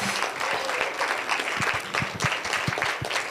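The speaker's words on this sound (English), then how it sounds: "Please, a round of applause for Janelle again." Audience applause at a poetry event, steady clapping from a moderate crowd throughout, close and fairly loud.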